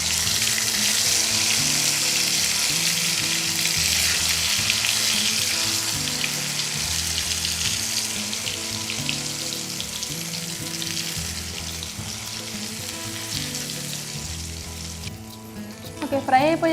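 Food drops into hot oil and fries with a loud, continuous, dense sizzling hiss that holds steady throughout, easing slightly near the end.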